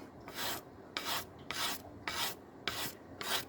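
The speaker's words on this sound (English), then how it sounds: "just sand the edge here" A bass guitar body edge is sanded on 220-grit sandpaper laid on a piece of plexiglass, six rhythmic rasping strokes evenly spaced, close and fairly quiet, with no talk.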